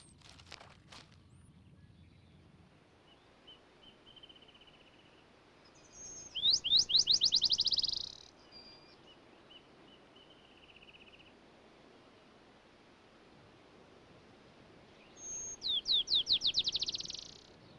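Black-chinned sparrow song in shrubland: two separate bursts of quick, accelerating bright trills, each lasting about two seconds, heard at moderate distance against a quiet background with faint rustling between them.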